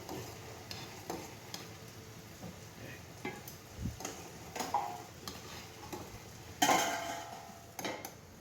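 Two teaspoons of tea leaves being stirred into boiling water in a pan for chai, with repeated light spoon taps and scrapes against the metal over a soft bubbling simmer, close by, and one sharper clink near the end.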